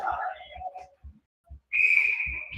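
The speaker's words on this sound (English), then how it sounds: "And we'll have a whistle here at the corner." At an ice hockey game, a referee's whistle blasts sharply and holds for nearly a second after a moment of muffled commentary and thumps.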